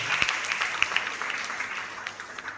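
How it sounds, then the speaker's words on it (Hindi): A crowd applauding at a women's empowerment program, dense clapping that stays steady for a couple of seconds, moderately loud. "एक बार उनको तालियां।"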